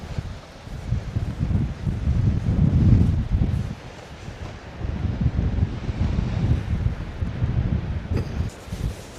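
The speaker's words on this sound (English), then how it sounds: "It's just that wind that's been chilled by the ocean" Cold wind gusts off the ocean on a coastal walk toward St Agnes, a loud, continuous roar buffeting the microphone, swelling and easing in waves with faint surf underneath and no talk.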